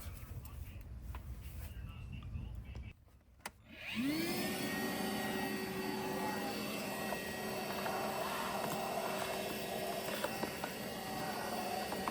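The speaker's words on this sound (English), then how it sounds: "Good idea to vacuum inside there to get rid of all that dust" A vacuum cleaner clears dust from the air filter housing of a 2023 Mercedes-Benz Sprinter with a 4-cylinder gas engine. It switches on partway through with a rising whine, then holds a loud, steady drone up close.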